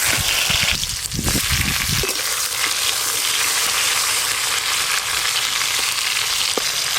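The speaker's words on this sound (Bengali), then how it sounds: "সর্ষের তেল, লবণ হলুদ আর চিনি মাখানো কুমড়োগুলো দিয়ে দেব।" Pumpkin pieces coated in salt, turmeric and sugar hit hot mustard oil with a loud burst of splattering, then settle into a steady, strong sizzle that carries on close up, with no talk.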